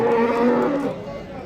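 A cow moos once, a loud, close, drawn-out low call at a busy livestock bazaar in Andijan.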